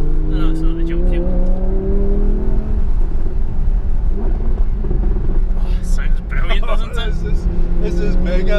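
A car's engine drives hard around the Millbrook test track, a loud, sustained rumble that rises and falls as it revs and accelerates, with people talking over it throughout.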